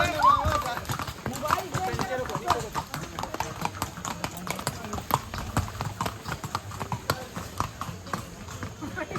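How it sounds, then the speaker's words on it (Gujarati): Horses clip-clop along a path at the Matheran hill station on a rainy day, a steady run of hoofbeats close by with people talking throughout. "જો ઘોડા આવે"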